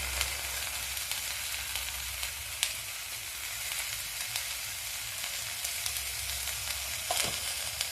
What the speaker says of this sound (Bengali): বেগুনগুলোকে ভেজে নেব।